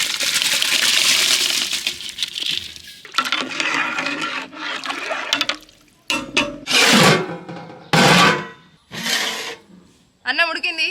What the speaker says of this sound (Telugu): కడిగి నానబెట్టుకున్న బాస్మతి బియ్యాన్ని ఇందులో వేసుకుందాం